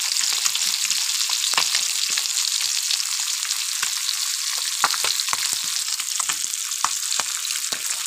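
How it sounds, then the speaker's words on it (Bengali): Fish sizzles and crackles steadily in hot oil in a pan, a dense continuous frying hiss with scattered pops, close and alone. "এবার মাছগুলো ভালো করে ভেজে নিলাম।"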